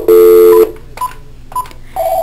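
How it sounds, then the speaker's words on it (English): An NEC business phone on speaker plays a long tone followed by two short keypad DTMF beeps and another rising tone, loud and close, with no talking. "Without lifting the handset, press speaker and dial"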